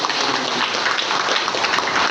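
A church congregation claps continuously, a dense, even patter of applause that holds steady for a couple of seconds.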